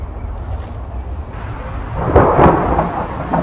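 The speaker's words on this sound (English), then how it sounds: "My sword against the thunder." Deep rolling thunder rumbles up and swells louder toward the end, with a hiss of rain and wind underneath.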